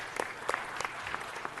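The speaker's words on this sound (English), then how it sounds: "let's give him a round of applause." A round of applause at a city council meeting for a council member's husband in the audience, brief, full crowd clapping with a few sharper individual claps standing out.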